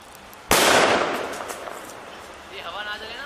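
A Cock brand bullet bomb firecracker goes off in one sudden loud bang with a decaying rumbling tail, followed by a voice talking afterward.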